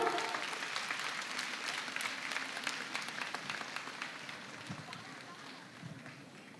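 A live audience claps steadily at a performance, a dense wash of applause that holds throughout and fades slightly toward the end.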